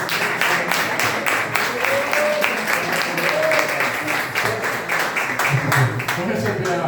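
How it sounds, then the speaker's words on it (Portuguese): A church congregation claps in rhythm, a dense steady patter of many hands, while voices sing or speak loudly over it throughout. "Receba com palmas para Jesus"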